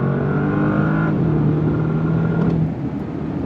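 A 2025 Bentley Continental GT Speed engine droning at high revs with a tonal exhaust note, shifting pitch and dropping off as the driver lifts, close and loud.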